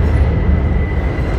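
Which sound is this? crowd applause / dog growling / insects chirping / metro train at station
metro train at station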